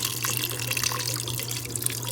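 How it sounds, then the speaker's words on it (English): Chicken broth pours steadily over pasta noodles in a pot, a continuous close liquid splashing and trickling with a low steady hum underneath, no talking. "I'm gonna pour some more in just till the noodles are submerged."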